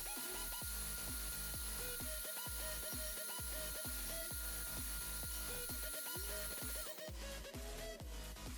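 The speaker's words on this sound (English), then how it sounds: "Just got to drill them out now and insert them" A power drill whirs steadily and loudly throughout, drilling holes in an Apollo B-class model build, its pitch dipping in repeated bursts as the bit bites, with scraping and clicking around it.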